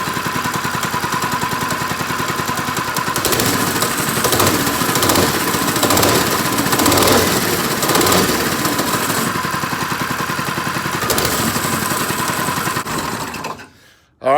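A racing go-kart engine under repair runs loud and close with a buzzing, rapid idle, swelling as the throttle is blipped, then cutting off abruptly near the end.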